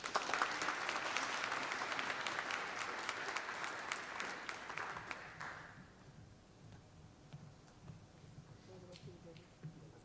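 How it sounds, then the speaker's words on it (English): Audience applause at an evening school district spelling bee, honoring alternate spellers, dense clapping for about five seconds before fading to a quieter room with scattered small sounds. "how about a round of applause for them?"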